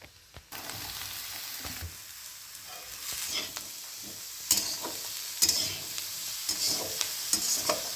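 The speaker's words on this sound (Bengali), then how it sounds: "এবার আমি সব কেটে রাখা সবজিগুলো দিয়ে দিচ্ছি" Chopped vegetables sizzle steadily in a hot pan while a utensil scrapes and clacks now and then as they are stirred, no talking.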